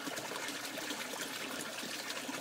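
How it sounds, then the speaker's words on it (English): Water trickles back from a clarifier made from a 5-gallon water jug into an aquaponics sump, a steady, close hiss of running water with no pauses. "Water's running back into the sump now."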